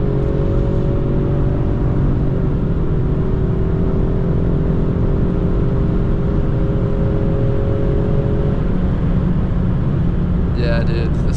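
A black 2018 Ford Mustang EcoBoost with the Black Accent Package pulls hard, its turbo four-cylinder droning steadily up through the revs from inside the cabin, loud and sustained, with a brief vocal outburst near the end.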